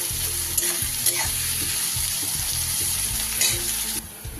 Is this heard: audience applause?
no